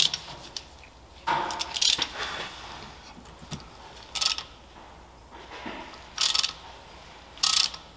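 Hand tool biting into and twisting a stuck pin out of a JLG 600AJ manlift basket rotator, giving short bursts of metallic ratcheting and scraping clicks at irregular intervals, close up, with quiet gaps between.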